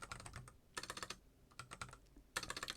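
A computer keyboard is typed on in quick bursts while a password is entered at an Ubuntu login, with crisp, close key clicks separated by short pauses in a quiet room.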